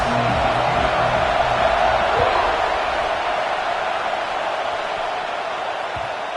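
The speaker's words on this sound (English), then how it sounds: "this crowd is fired up. Listen to this noise here." A packed stadium crowd roars at a college football game between Ole Miss and Clemson, a dense, sustained wash of cheering that fills the whole stretch, loud at first and then easing slightly.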